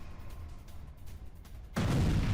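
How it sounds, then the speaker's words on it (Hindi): An explosion during a Russian attack on Kharkiv, Ukraine: a low ambient rumble gives way to a sudden loud blast that continues as a heavy, sustained roar to the end. "ये देखिए आप कैसे धमाका होता है।"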